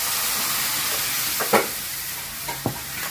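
A dhokar dalna mixture sizzles in a hot wok, a constant hiss broken by a few quick scraping and clattering stirs of a spoon against the metal.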